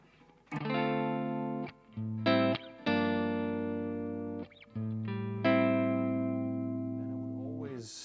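Clean electric guitar chords and single notes ring out one after another, each sustaining with a lush reverb tail from a TC Electronic reverb pedal before the next.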